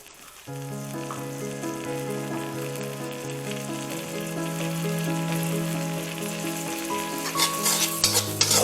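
Steady frying sizzle with stirring as fried rice cooks with tomato sauce and a light sprinkle of white pepper powder, a continuous close hiss with occasional utensil scrapes rising toward the end.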